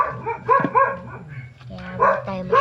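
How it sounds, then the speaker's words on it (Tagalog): A household dog barks and yips in several close, irregular bursts, with short whimpering whines between the louder barks. "Ang aso namin maingay."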